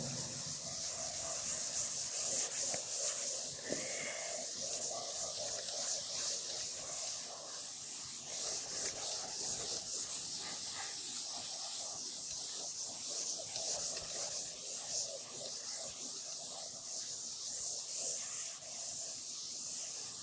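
Writing being erased from a classroom board, a steady, hissy rubbing that runs on without a break for about twenty seconds, close and fairly even in loudness.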